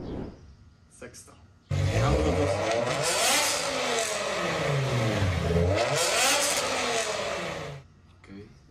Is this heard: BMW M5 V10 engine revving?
yes